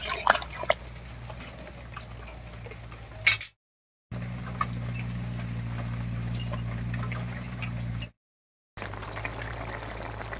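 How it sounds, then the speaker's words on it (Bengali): Water poured into a pan of village-style katla fish curry with ash gourd for the gravy, a steady splashing pour in two stretches with short breaks, alone without talk. "এবারে ঝোলের জন্য জল দেব।"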